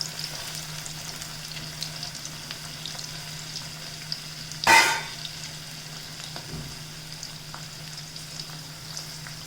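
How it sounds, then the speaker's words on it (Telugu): Ripe red chillies and broad beans sizzle steadily in a hot pan over medium heat with a soft, continuous hiss, broken once by a brief loud clatter midway. "మీడియం సెగలోనే చిన్నగా మరీ ఎక్కువ కాకుండా ఒక మాదిరిగా వేపిద్దాము"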